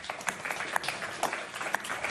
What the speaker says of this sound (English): It's okay, you can clap. We love claps.